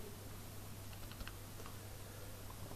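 Typing on a computer keyboard while entering a value in design software: a few quiet, scattered key clicks in a short burst, faint and alone.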